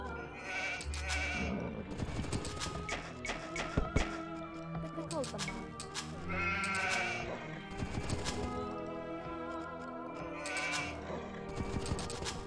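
Sheep bleat repeatedly in the Age of Empires 2 video game, short game sound effects layered over busy in-game noise, clicks and thuds, with someone talking throughout.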